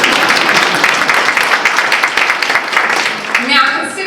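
Audience applause for the mayor at a city State of the City address, a dense, steady wash of clapping from a crowd that begins to thin toward the end, with voices mixed in.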